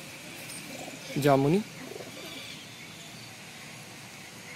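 A single short pigeon coo from a broad-bodied pigeon in Agra, a low warbling call lasting about half a second, heard close over faint background noise and a brief spoken word.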